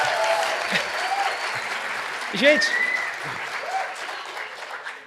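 Audience applause at a medical lecture on obesity and spirituality, a steady wash of clapping throughout while someone talks over it.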